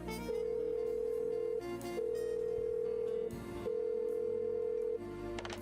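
An unanswered phone rings in Blackwell Unbound, three long steady ring tones with short gaps between them, clear and loud over soft ambient game music.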